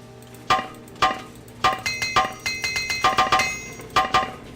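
In Morrowind, an armorer's repair hammer strikes metal gear in a series of sharp, bright clinks, single blows and then quick runs of taps with ringing overtones, close and alone without speech.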